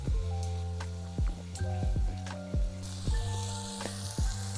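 Food searing in a hot pan during a quick weeknight dinner cook, with a steady close sizzle and repeated short bursts of crackling and spatter over a few seconds.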